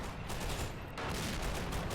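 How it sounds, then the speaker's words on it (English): A high-explosive round from a SIG-33 gun blasting in the war game Men of War, heard as a dense, noisy burst of rapid crackling detonations that keeps going without a break. "Ooh, that was a big explosion."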